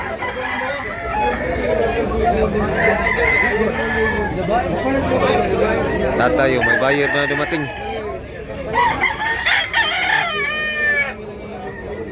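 Roosters at a rainy chicken market in Tabunok, Cebu, crow again and again with overlapping, drawn-out calls and clucks, loud and near, while people chatter and talk over them.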